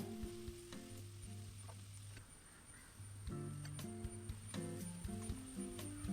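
Chopped onions sizzle in a few spoonfuls of coconut oil in a pan, cooked with salt for Kozhikode-style irachi chatti pathiri. The frying hiss stays soft and steady beneath louder background music, with no talking.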